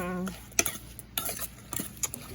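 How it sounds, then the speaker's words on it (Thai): Live shrimp salad with chili, lime and roasted rice is tossed and mixed with seasoning, producing irregular clinks, clatters and scrapes of utensils against a bowl, close and fairly quiet, after a brief hum from a voice at the start. "พอเราเขย่าไปสักพักแล้วเราก็จะมาคลุกอีกรอบหนึ่งเพื่อให้เครื่องมันเข้ากัน"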